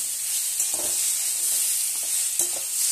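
Ivy gourd frying in a pan with green chillies, dried chillies and poppy seeds, stirred as it cooks: a steady, close hiss of hot oil broken by a few soft scraping strokes.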